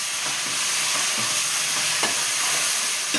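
Chopped tomatoes hit a hot pan and keep sizzling steadily, a bright continuous hiss with soft scraping from stirring, close and loud, with no one speaking.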